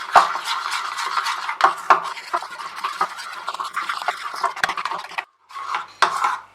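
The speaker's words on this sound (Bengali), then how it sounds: "এবার এটাকে আমি একটা স্মুথ একটা ব্যাটার বানিয়ে নিচ্ছি।" A spoon whisks chili powder and cornflour into a smooth batter in a bowl for Bengali katla fish, with rapid continuous scraping and clinking close up, briefly pausing before resuming.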